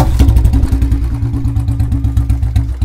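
A Royal Enfield Bullet with a bottle-style exhaust silencer sits idling close by, putting out a loud, even chain of deep, rapid thumping beats with a slight mechanical clatter.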